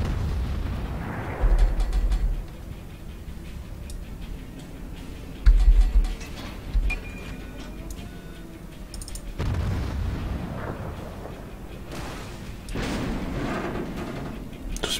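Naval gunfire and explosions from the warship game World of Warships, with scattered booming blasts and bursts at varying distance over a low rumbling game soundscape, no voices.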